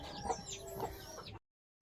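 A chicken clucks in a few short bursts close by, then the sound cuts off into silence.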